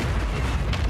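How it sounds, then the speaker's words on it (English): Mortar shell exploding in a shooting video game, a deep rumbling boom with a low-end roll that fills the short moment. "Oh, that mortar got me."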